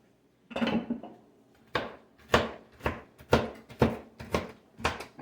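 Pecans being chopped with a sharp kitchen knife on a cutting board, a run of about seven distinct, evenly spaced knocks that carry crisply and nearby, with no talking.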